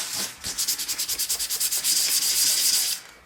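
A propeller blade being hand-sanded, a close, steady run of about a dozen quick rhythmic strokes, then a smoother continuous rub, alone with no voices.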